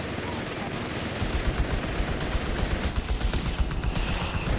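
Vickers machine gun fire in the video game Company of Heroes 3 rattles on as a dense, continuous burst of gunfire, loud and sustained throughout amid battle noise.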